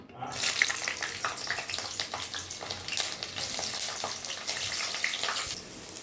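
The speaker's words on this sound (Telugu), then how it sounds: "ఇగో ఆయిల్ వేడెక్కింది. ఇప్పుడు ఎల్లుల్లిపాయలు వేస్తున్నా." Garlic goes into hot peanut oil and bursts into a loud, close sizzle that holds steady with fine crackles for several seconds, then eases slightly near the end.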